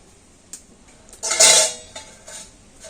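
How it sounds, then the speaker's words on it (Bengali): A metal plate is set down on a stand inside a kadai for baking cake, giving one brief clattering metallic clank with a short ring, plus a few lighter taps before and after. "থালাটা প্রথমে আমি স্ট্যান্ডের উপরে বসিয়ে দেবো"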